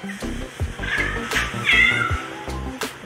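A cat meows loudly and close by, several drawn-out cries over a steady low mechanical hum.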